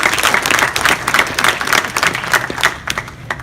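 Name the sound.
applause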